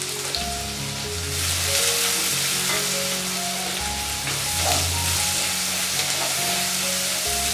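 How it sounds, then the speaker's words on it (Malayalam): Onion, green chilli and salt sautéing in a hot pan give a loud, continuous sizzle with a few stirring scrapes, close up and steady throughout, with no voices. "ആ സമയത്ത് നമ്മുടെ സവാള, പച്ചമുളക്, ഒരു അല്പം ഉപ്പിട്ട് വരട്ടാം."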